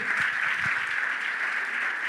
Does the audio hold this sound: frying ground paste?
no